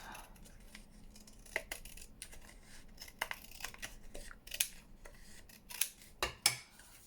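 Scissors snipping through a small paper ticket during papercraft work: a series of short, crisp cuts and rustles, sparse at first and then quicker and louder toward the end, close by with no talking.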